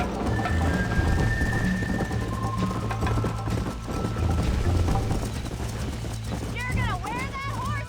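In the video game Red Dead Redemption, rapid, steady hoofbeats of a galloping horse drum on under game music and occasional talk, with a soft rain-like patter.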